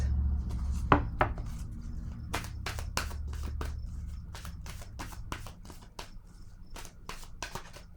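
A card is laid down during a tarot-style reading, giving crisp taps and soft shuffling slaps in an irregular series near the microphone over a faint low hum.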